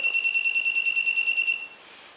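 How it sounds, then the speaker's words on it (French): Steady electronic buzzer on a J-Mini FPV drone beeps in a fast even pulsing pattern for about a second and a half, then cuts off, leaving a quiet hiss, with no talking. "la dernière voie que j'utilise, c'est le buzzer"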